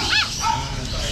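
A small chihuahua at a pet market gives a quick high yip and short whiny barks, close and bright, over busy market background noise.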